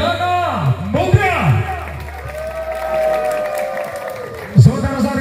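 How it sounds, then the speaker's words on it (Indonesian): A crowd at the Arkora Cup volleyball tournament applauds and cheers the Perdana Muda team with a sustained wash of clapping and whoops, while a commentator keeps talking over it. "Tepuk tangan untuk tim bola voli Perdana Muda."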